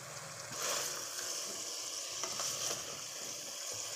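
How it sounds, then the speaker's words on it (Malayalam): A chicken curry sizzles in a frying pan as spice powders are stirred through it, with a steady close frying hiss and soft scraping of the stirring. No one speaks. "ഇനി നല്ലതുപോലെ ഇളക്കി യോജിപ്പിക്കുക."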